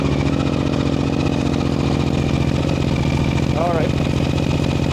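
A Suzuki V-Strom motorcycle fitted with a GRMoto exhaust and dB killer idles with a loud, steady, throbbing pulse close by, while someone talks briefly over it.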